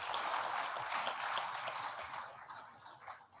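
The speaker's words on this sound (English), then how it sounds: "Please give them another round of applause." An audience at a panel discussion on gas applauds the panelists. The clapping is dense and sustained, then thins out and tails off near the end, with no voices.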